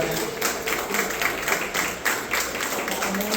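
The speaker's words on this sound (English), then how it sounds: "Y'all start clapping right now." A crowd at a public art program event claps in a steady, rhythmic pattern, moderately loud and fairly close, with no talk over it.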